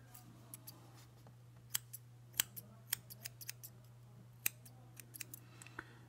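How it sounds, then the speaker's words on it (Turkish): Scattered sharp snips of slightly dull scissors cutting cord for a tassel, irregular and fairly crisp, spaced over several seconds above a steady low electrical hum. "Makasım biraz körelmiş olabilir."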